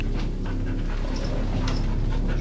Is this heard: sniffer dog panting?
yes